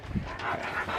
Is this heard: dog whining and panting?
yes